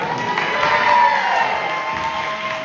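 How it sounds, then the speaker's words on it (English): Crowd at a community gathering in Chicago claps and cheers, with whoops and raised voices over the applause, at a moderate level. "Clap it up one more time."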